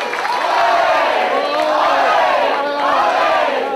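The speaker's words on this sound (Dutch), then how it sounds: "En een applaus voor Bassie!" A children's audience at a Bassie show cheers and shouts loudly for Bassie, a dense continuous crowd roar with whoops that swells and dips over several seconds.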